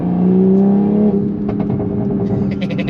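A Toyota Supra accelerates hard, its engine tone rising and holding loud and close, followed by a run of sharp crackling exhaust pops as the revs drop.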